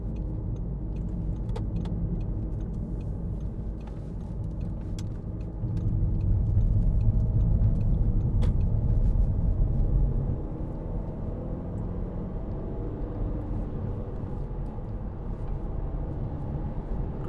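A 2009 Audi A3 2.0 TDI S line three-door diesel hatchback on a test drive, a steady low engine and road rumble from inside the cabin that swells louder for a few seconds midway, with no talking.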